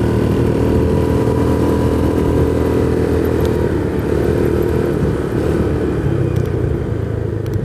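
A motorcycle engine labors up a steep mountain road past coffee plantations near Puncak, Bogor, as a steady, close, loud rumble that holds without a break and no one speaks.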